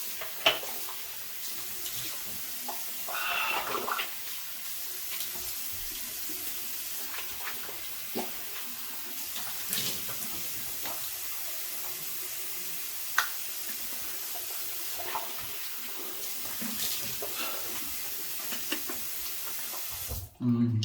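Water from a running tap streams steadily over a new Zenith boar shaving brush as it is rinsed, a continuous splashing wash with occasional soft knocks and a sharper clunk at the very end.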